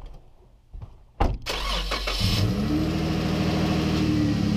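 A Jeep Wrangler JKU engine is started after a few quiet clicks and thumps, cranks briefly, then catches and settles into a loud, steady idle close by.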